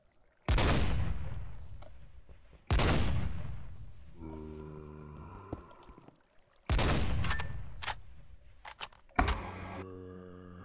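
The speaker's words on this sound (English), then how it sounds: "Man, that gun is really loud. I can hear it all the way from here." Loud gunfire in a video game: three booming shots, each with a long echoing tail, spaced a couple of seconds apart, with metallic clicks and clanks between them.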